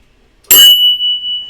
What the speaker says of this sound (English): every successful Melvin Gordon trade for story, I'm ringing that bell